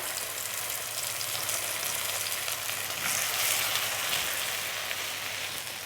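Ground Schezwan paste fries in a pan, giving a steady, dense sizzle throughout with a faint low hum beneath, close and even, with no voices.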